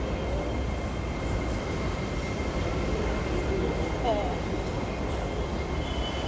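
Low rumbling of a Hong Kong Light Rail train running nearby, a steady rolling drone with faint metallic squeals, no clear talk.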